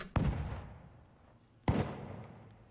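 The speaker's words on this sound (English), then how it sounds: "now we are going on to the cannons" Two cannon shots from a Pirates of the Caribbean sound redesign, each a sharp close boom trailing into a long decaying rumble, spaced about a second and a half apart.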